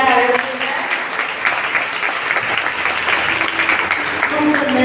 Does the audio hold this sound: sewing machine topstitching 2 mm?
no